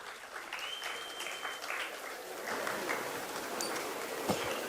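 Crowd applause for the winning football team, Skazangling FC, at a Gaston 2025 felicitation ceremony in Delhi, a steady moderate wash of clapping with a faint tone and a few louder claps.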